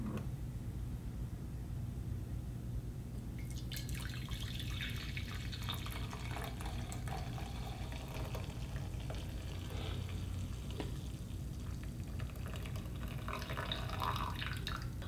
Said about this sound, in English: I just poured 4 cups of coffee into my giant orange mug